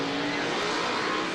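E85-fuelled Pro 2 race truck engine of about 900 horsepower roaring steadily on a racing track, a dense loud continuous drone held for a short stretch with no talk.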